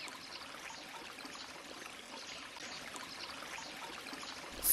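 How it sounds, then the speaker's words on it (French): River water flowing steadily, a soft continuous stream and trickle with a brief louder splash or surge at the very end; no voices. "Ils tombèrent dans une rivière."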